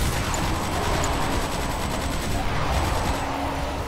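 Sustained gunfire from the real-time strategy game Command & Conquer 3: Kane's Wrath, a dense steady crackle of battle noise running throughout at even loudness with no clear breaks.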